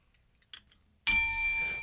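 A bell in a radio studio rings once with a sharp metallic strike that rings on with a sustained shimmering tone, heard up close after a brief soft rustle.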